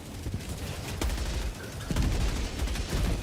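An MG43 machine gun firing in Helldivers 2, with several sharp bursts of rapid shots over a rumbling low background, fairly close and at moderate loudness.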